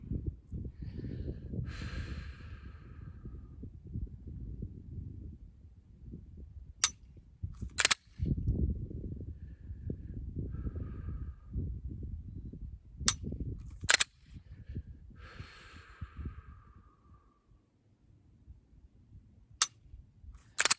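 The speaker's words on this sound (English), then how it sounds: "get some more dry fires in" Pistol dry firing, with a few sharp, isolated trigger clicks spaced several seconds apart over low handling rustle and breathing at an outdoor range; no speech.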